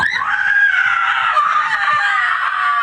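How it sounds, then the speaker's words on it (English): A single long, loud, high-pitched scream rings out in a horror film scene, sustained for nearly three seconds before stopping abruptly. "Betty lets out this loud scream"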